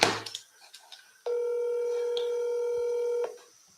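Telephone keypad dialing before a phone call: a few quick soft key tones at first, then one steady, loud tone held for about two seconds that stops abruptly, heard alone at close range.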